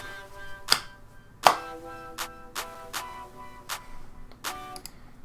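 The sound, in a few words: clap samples layered into a future bass song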